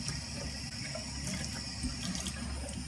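Water runs steadily into a container from a slime-making kit, a continuous close rushing fill with no talking.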